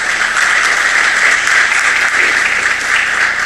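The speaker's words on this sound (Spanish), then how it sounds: "Un aplauso para nuestros panelistas," Continuous audience applause for panelists closing a conference session on investment arbitration in Latin America, an even, close and fairly loud clapping wash lasting several seconds.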